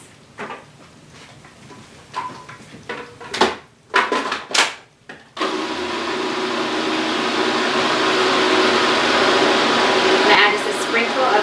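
A food processor whirs steadily as it blends cauliflower with half a teaspoon of salt and a little ghee, starting after a few clattering knocks and bumps and running loud and continuous to the end.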